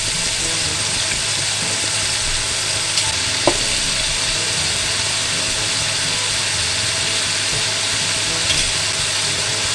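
Steady frying sizzle in a pan with occasional utensil taps as food seasoned with fish sauce is stirred, constant and close throughout with no talking.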